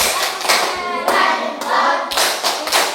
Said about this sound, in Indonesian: Coba dulu kasih apresiasi kepada kelompok 2. Tepuk keren.